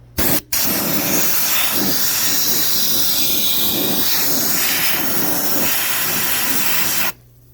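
A Princess Auto 20-gallon sandblast gun blasts the firewall of a 1958 Chevrolet Impala at about 90 psi, a loud continuous hiss and rush lasting about seven seconds, with a brief stutter near the start and an abrupt stop.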